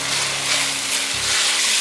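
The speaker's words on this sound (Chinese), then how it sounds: "大约炒了3分钟，番茄已经炒成有点番茄糊的样子的时候，放入红甜椒和黄甜椒。" Tomatoes cooked down to a paste are stir-fried with red and yellow bell peppers in a vegan sweet-and-sour dish, giving a steady close sizzle with faint stirring and no talk.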